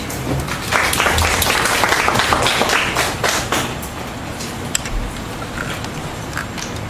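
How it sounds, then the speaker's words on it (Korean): Audience applause at a forum on working-class politics, a dense patter of many hands clapping that is loudest early, then thins out and trails off into scattered claps and room noise. "박수로 해주시죠."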